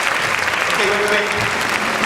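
An audience applauds after a performer walks barefoot on broken glass during a stage magic show, a dense, steady wash of clapping mixed with a voice talking over it.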